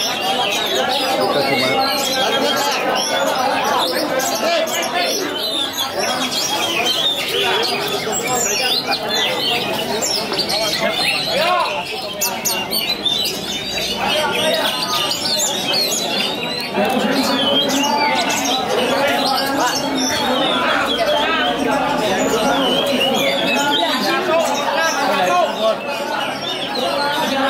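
A kacer (magpie-robin) songbird sings in dense, continuous chirps and warbling trills at a bird-keeping meetup in Majalengka, with people talking throughout.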